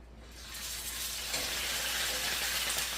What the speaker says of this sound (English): So hopefully we're going to hear a nice sizzle